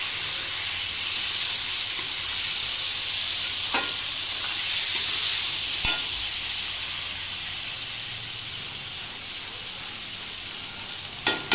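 Spice masala with sugar, turmeric, cumin powder and salt stirred and fried in a pan for a vegetarian dish, giving a continuous bright sizzle with occasional spoon clicks and scrapes.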